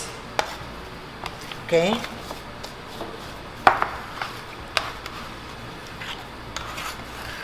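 A utensil scrapes a tray of steamed mochi, making soft, close scraping strokes and occasional sharp taps against the dish at irregular intervals, with a short spoken word partway through.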